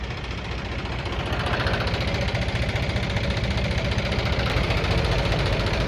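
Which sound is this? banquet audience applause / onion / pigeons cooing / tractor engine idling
tractor engine idling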